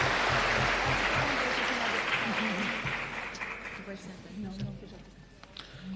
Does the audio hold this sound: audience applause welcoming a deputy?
yes